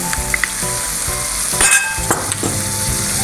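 Pork stir-fries in a pan with fish sauce, soy sauce and oyster sauce, a loud, close, continuous sizzle broken by clinks and scrapes of a utensil against the pan.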